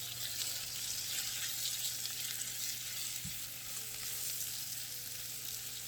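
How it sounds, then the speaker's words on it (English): Mushroom sauce in a frying pan bubbles and sizzles in a steady, dense hiss while being stirred, close and even, with a faint low hum beneath and no talking. "Give this a stir here really quick."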